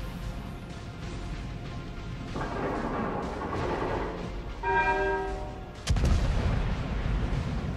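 The Scharnhorst battleship's guns fire in the video game World of Warships, with heavy booming salvos rolling in over the constant game ambience, the loudest blast landing near the end.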